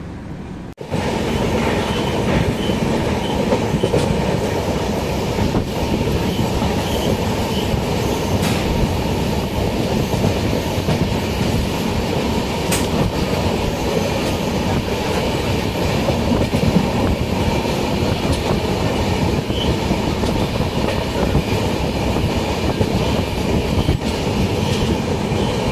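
An express passenger train runs on the rails in India between Kerala and Tirupati, giving a loud, continuous close rumble with a rhythmic clickety-clack of wheels throughout and no voices.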